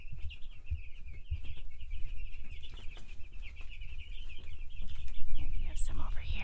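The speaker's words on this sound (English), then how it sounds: "The other chicks over there." Young homestead chicks, just starting to grow feathers, peep in a steady high chirping chorus over low rustling and background noise, with a few louder calls near the end.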